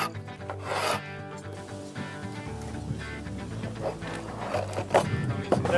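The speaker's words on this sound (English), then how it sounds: "the first part of the process is just scraping off" Old boards salvaged from a barn being scraped by hand to clear off loose paint and grime, a repeated rasping rub with a rough, uneven rhythm, close and fairly loud.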